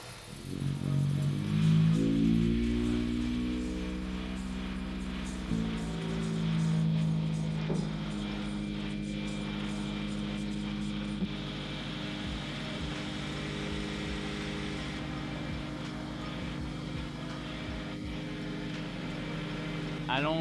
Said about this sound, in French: On va essayer de lancer le moteur.